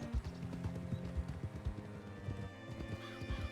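Hooves of a horse being ridden in the video game Red Dead Redemption 2 clip-clop in a steady rhythmic gait, with a whinny and low rumbling game ambience underneath.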